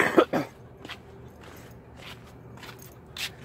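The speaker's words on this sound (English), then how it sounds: "okay, so I still got a little bit of a cough." A person still getting over a cold gives a couple of quick rough coughs at the start, then soft scuffs and rustling follow, with a faint cough-like burst near the end.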